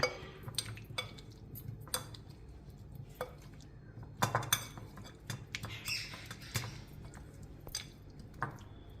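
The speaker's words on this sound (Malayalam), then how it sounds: "ഇനി നമുക്ക് പനീർ ഇടാം, മിക്സ് ചെയ്ത് കൊടുക്കാം." A spoon clinks and scrapes against a bowl in an irregular rhythm while paneer is mixed into spiced yogurt, with sharp close taps standing out over soft wet stirring.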